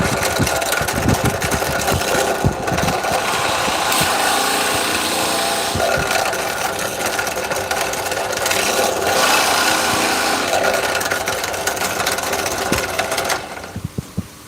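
A drill whirs steadily into a small bead of star gooseberry wood for over ten seconds, grinding and buzzing loudly with small changes in pitch, then cuts off near the end.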